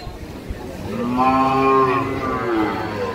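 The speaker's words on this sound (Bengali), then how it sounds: "ছোট গরু, বড় গরু, বাছুর, হাড় গরু আলাদা আলাদা করে আছে।" A cow lets out one long, drawn-out moo at a village livestock market held under trees, rising and falling over about two seconds against a low murmur of background noise.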